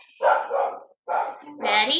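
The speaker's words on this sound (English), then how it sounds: "sorry about my dog" A pet dog barks in a home during a guitar lesson, giving two or three loud, close yelping barks in quick succession, with a brief spoken word overlapping the last bark.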